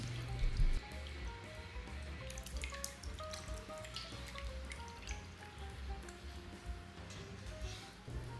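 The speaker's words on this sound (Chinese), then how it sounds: "同样的准备1盆清水，用来清洗排骨。" Clean water splashing and dripping in a basin as pork ribs are rinsed, soft irregular drips and trickles at low level, with a brief thump near the start.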